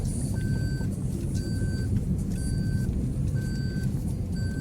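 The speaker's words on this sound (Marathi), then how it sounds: "हळूच गाडी उतरत आहे खाली" A vehicle slowly reversing down a slope, its reversing alarm beeping in a steady, evenly spaced rhythm over a loud, constant engine rumble.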